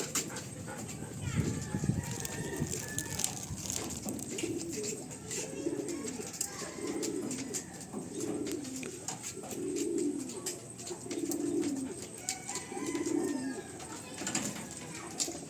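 Pigeons or doves kept as caged birds coo in a slow, repeating series of soft low calls, fairly distant, while a person talks over them throughout.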